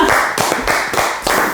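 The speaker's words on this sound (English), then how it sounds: "We'll applaud you in." A small studio audience on a talk show claps to welcome a guest: steady, close, rhythmic hand claps repeating in even bursts throughout.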